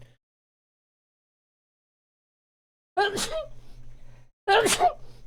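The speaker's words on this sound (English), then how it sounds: "But not before a couple sneezes." Two sharp sneezes a second or so apart, loud and close, after a long quiet stretch.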